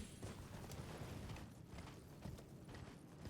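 A horse galloping across open ground in Elden Ring, giving a steady, muffled drumming of hoofbeats at moderate volume with faint mechanical creaks and no voices.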